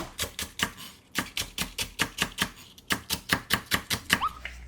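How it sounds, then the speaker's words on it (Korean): A kitchen knife thinly slicing green onion (daepa) on a cutting board, a quick steady run of close, crisp chopping taps in three bursts with short pauses between, no talk. "대파는 이렇게 송송 썰어주세요."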